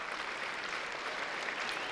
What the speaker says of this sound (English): We're just going to give you a big round of applause